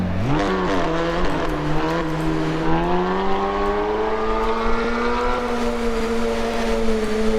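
A modified Honda Civic in Assetto Corsa roars along a Bangkok expressway, its engine revving loudly and steadily with a rising, strained pitch that holds high and sustained throughout, with no talk over it.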